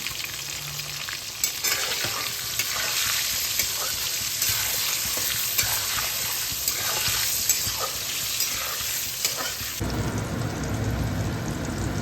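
Eggplant fries in hot oil with turmeric and salt, a dense, steady sizzle with scattered crackles that shifts to a rougher, deeper sputter near the end.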